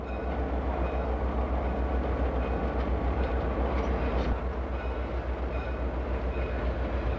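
Amtrak passenger train running past, led by a former Union Pacific locomotive, with a steady loud rumble and rolling wheel noise that holds throughout without a break.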